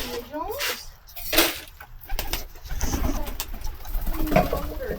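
Pigeons coo in soft, low bursts while being fed by hand at the Ann Arbor Art Fair, close by amid people talking and general outdoor crowd noise.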